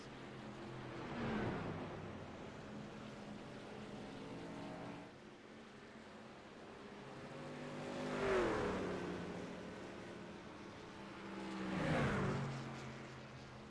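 Race car engines in a racing video game whine steadily as cars drive down pit road, with two passing swells of engine pitch rising and falling, moderately loud and continuous, without talk.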